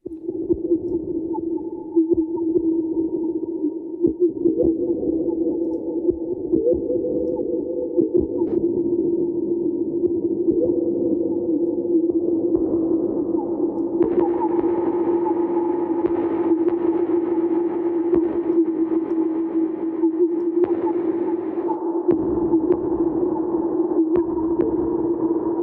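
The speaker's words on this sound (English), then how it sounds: "depending on how you use the filters here, it may sound like a noise or an effect underwater" A no-input mixer caught in a simple feedback loop drones with a steady sustained tone, filtered into a murky, underwater-like wash that shifts and brightens midway, loud and continuous with no voices.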